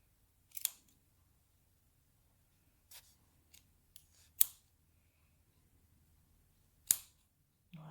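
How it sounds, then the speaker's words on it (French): Scissors snip through the yarn loops of a small handmade pompom, giving four or five sharp, quiet clicks spaced irregularly over a near-silent background. "Veille à bien couper toutes les boucles."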